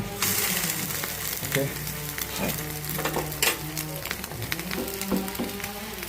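Egg appam fries and sizzles steadily in a pan, with crackling oil throughout and occasional clinks and scrapes as it is flipped.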